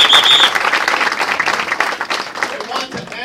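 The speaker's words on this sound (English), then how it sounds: "Let's give him a great round of applause." Audience applause at a political speech for Congressman Bill Pascrell, a dense wash of clapping from a large crowd that starts loud and holds steady over about three seconds with some voices mixed in.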